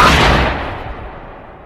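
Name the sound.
gunfire in a film scene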